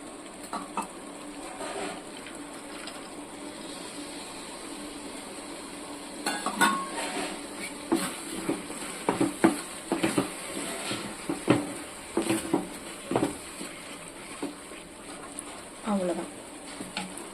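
Bottle gourd halwa with fried nuts is stirred in a pan, giving irregular scraping and clinking strokes that grow busier partway through, with a soft sizzle beneath and a voice talking now and then.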